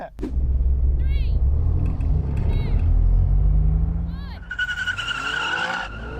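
An Alfa Romeo Giulia spins its wheels during a race, a low rumbling engine drone with bursts of tire squeal and skidding, while people talk throughout and a higher whine rises near the end.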